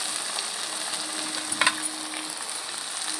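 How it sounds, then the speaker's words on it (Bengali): Soya chunks sautéed in a pan with turmeric, salt, Kashmiri chilli powder and green chilli, a steady close sizzle with a brief burst of stirring scrapes in the middle. "সামান্য একটু মিষ্টি ভালো করে সব কষিয়ে দেবো"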